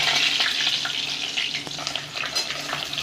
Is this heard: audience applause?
no